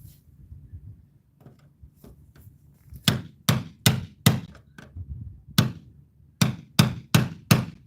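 Hammer blows strike a stuck, stripped fastener, starting as soft scattered taps and building into a run of about a dozen loud, sharp, close impacts in an uneven rhythm over a low background hum.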